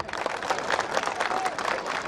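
Audience at a public meeting in Armoor clapping together, a dense, even patter of many hands close by that continues without pause, with a voice faintly underneath.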